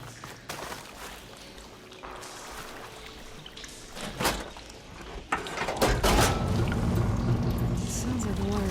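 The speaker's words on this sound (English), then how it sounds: "Sounds like the water's switched." Machinery in the Horizon Forbidden West video game switches a water flow: a low, steady rushing that swells suddenly at about six seconds into a loud, continuous gush.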